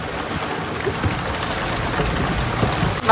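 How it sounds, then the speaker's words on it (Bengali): Heavy rain pours down in a dense, steady hiss, loud and close, with no voices, on the Matla river. "বৃষ্টি হচ্ছে কিরকম বলো তো?"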